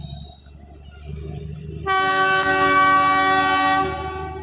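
A toy train's horn blares loudly with a sustained, harmonic tone over a low rumbling engine, starting partway through and holding for about two seconds.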